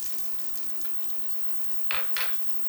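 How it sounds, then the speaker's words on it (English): Chopped onion sizzles in olive oil in a hot pan, a soft steady frying hiss with two short sharp clinks of a utensil against the pan near the end. "We start off just with some olive oil in a hot pan, and we're cooking some chopped onion"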